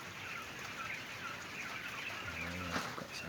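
Laying quails on a farm, with soft clucking and chirping calls over steady background noise, a brief flutter near the end.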